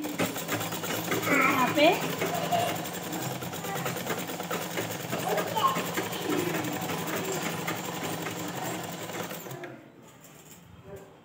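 A sewing machine stitching a blouse lining, a continuous close rattling hum of the needle running for most of the clip before stopping near the end, with someone briefly speaking over it.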